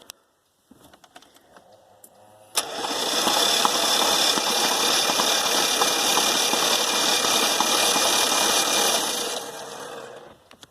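A Dodge 360 V8 engine that had been cranking slowly, turning over steadily on the starter with a loud, even whirring drone for about seven seconds after a few faint clicks, then cutting off.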